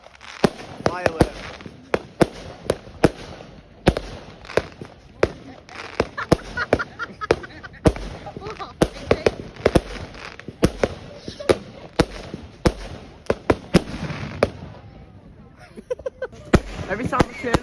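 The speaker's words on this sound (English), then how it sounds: "Firework." Fireworks and firecrackers going off on bonfire night outdoors, a rapid string of loud sharp bangs and crackles throughout, with voices talking in between.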